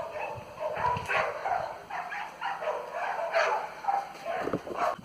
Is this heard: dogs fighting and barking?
yes